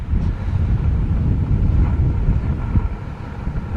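Steady wind blows through a sand-dune wind chute on the St Lucia Estuary coast, a continuous loud rumbling roar buffeting the microphone without a break.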